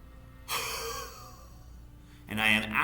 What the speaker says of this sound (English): And I am actively pushing the air out from my body toward the space in front of me